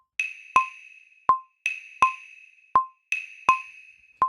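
Wooden claves tapping the two-side of a son clave pattern in Latin music, several crisp, close, evenly placed eighth-note clicks on two pitches, repeating in a steady cycle with no talking.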